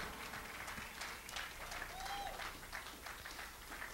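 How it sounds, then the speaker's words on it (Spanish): Applause rings out from a church congregation, a steady, dense clapping that fills the whole clip at moderate loudness, with no talk over it. "Give an applause to God."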